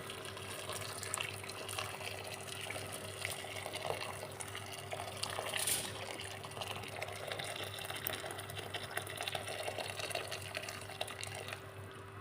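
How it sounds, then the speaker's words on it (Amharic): Water pours steadily into a pot in a continuous, fairly quiet stream, with a low background hum. "አሁን በገዛ ያፈላው ውሃ አለ እጨምረዋለሁ"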